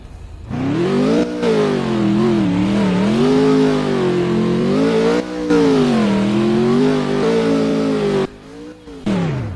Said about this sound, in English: he just went even longer on his burnout